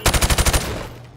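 Rapid burst of about seven close, loud gunshots evenly spaced, fired through plywood targets in Call of Duty Modern Warfare Remastered, then a short fading tail with no talk.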